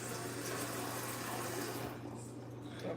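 Tap water runs steadily into a sink while rice is washed, a constant rushing splash that carries on for most of the moment and then quickly thins out near the end.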